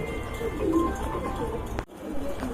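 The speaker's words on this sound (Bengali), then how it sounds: "এক জোড়া মাল্টেস রয়েছে এখানে। এই যে দেখেন, মাশাআল্লাহ, এইগুলা কিন্তু খুবই তেজি কবুতর।" A pair of Maltese pigeons at a farm coo softly and close by over a low, steady background hum; the cooing cuts off briefly near the end before the ambience resumes.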